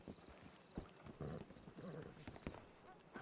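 Horse hooves clip-clop in a video game, a quick rhythmic run of close, moderately loud hoof beats over game ambience, with no talking.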